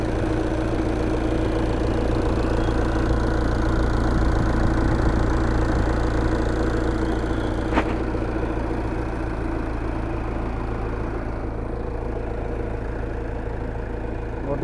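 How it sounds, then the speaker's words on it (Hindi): A vehicle engine idles steadily at close range, a continuous low rumble with a brief mechanical knock partway through and no voices. "engine gear"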